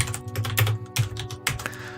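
Fingers tap a computer keyboard in quick, uneven bursts of crisp clicks, close and fairly loud, with brief pauses between runs of keystrokes and no voices.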